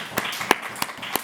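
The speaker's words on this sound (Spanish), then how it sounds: "da un aplauso a Cristo bendito" A church congregation claps during a Spanish-language sermon: only a handful of sharp, separate hand claps, about four evenly spaced strikes, close and moderately loud with nothing else around them.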